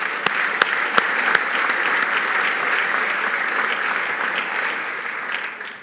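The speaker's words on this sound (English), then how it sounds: "so let's give them a generous round of applause" A luncheon crowd gives sustained applause for the event's sponsors at an address by Ontario PC Party leader Patrick Brown. A few loud, sharp claps stand out near the start over a full, steady roar of clapping.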